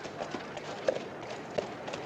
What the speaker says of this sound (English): Sam Barry, riding a little black horse with 4 white feet.